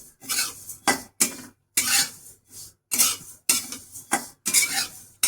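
Fennel seeds are stirred as they roast in a dry pan, giving repeated bursts of scraping and rattling against the metal, separated by short pauses.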